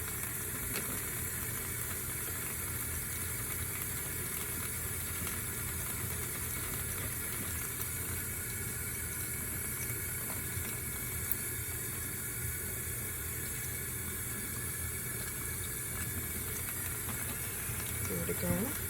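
Water from a tap runs steadily to wet a makeup brush, giving a continuous hissing rush that holds at a moderate level for the whole stretch with no break.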